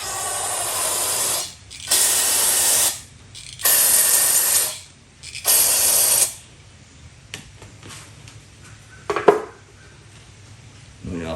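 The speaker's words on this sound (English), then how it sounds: "Spray some carburetor cleaner through it." Four loud bursts of carburetor cleaner spray hiss through a fuel line of a 1990 Evinrude 25 HP outboard, each lasting about a second, followed by quieter clinks and handling noises.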